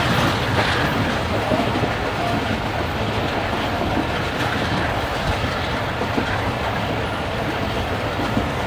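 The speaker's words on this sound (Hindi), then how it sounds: "फाइनली ट्रेन हमारी कराची डिवीज़न से सक्कर डिवीज़न में एंटर हो गई है" The Karachi Express passenger train runs on rails in Pakistan, a steady loud rumble with rhythmic clickety-clack of wheels, heard up close from on board throughout.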